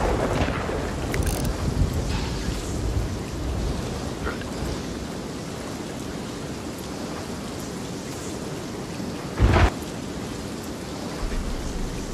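Steady rain and wind in Sea of Thieves on a ship at sea during a passing thunderstorm, a continuous loud wash of rainfall with a brief thump near the end and no clear thunder.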